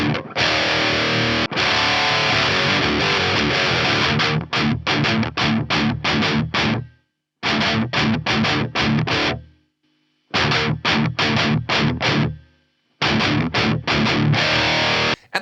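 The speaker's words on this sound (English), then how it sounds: "Let's just have a listen to the effect that this gate has on the overall amount of background noise" High-gain guitar amp chugs through a noise gate in bursts of palm-muted riffing, with sudden near-silent gaps between phrases where the gate cuts the background hiss; loud and close.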